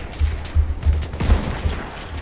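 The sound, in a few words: gunshot in a video game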